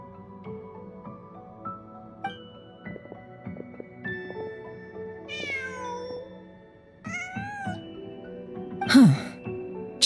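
A cat in Genshin Impact meows several times amid soft game music and chimes, the cries rising and falling, with a louder drawn-out meow near the end.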